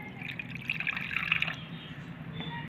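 Water poured into a small bowl in a home kitchen, a steady close trickle with a gentle splashing ripple that lasts a couple of seconds and then stops.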